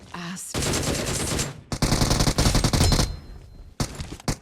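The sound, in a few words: gunfire in PUBG video game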